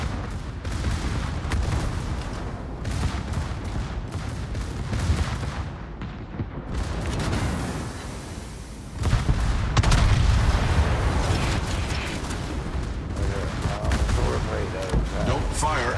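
Naval gunfire in World of Warships, with dense, sustained booming salvos and rumbling blasts layered throughout, swelling louder in the later half, while a voice talks over the battle.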